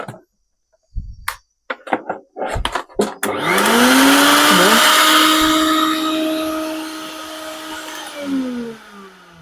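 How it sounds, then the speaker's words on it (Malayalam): A mixer grinder powered by a portable mini inverter starts after a few sharp clicks and knocks, then runs as a loud steady whirring drone with a wavering pitch for several seconds before slowing slightly near the end. "ഇതപ്പോൾ പ്രീതിയുടെ ഈ മിക്സി ഒന്ന് അതിൽ ചെക്ക് ചെയ്ത് നോക്കാം"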